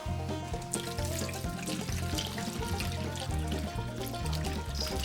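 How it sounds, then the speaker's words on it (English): Water pours steadily into a pot of pig's feet, neck bones, chili flakes and apple cider vinegar for souse, a continuous close splashing trickle with no talk. "now we're going to top the rest of that off with water."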